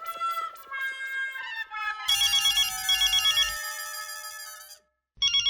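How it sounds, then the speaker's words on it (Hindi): An electronic phone ringtone plays a melodic tune, shifting to a louder buzzy repeating pattern, then pausing briefly before starting again. "अंजलि का फोन"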